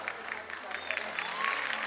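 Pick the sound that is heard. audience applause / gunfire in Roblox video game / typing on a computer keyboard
audience applause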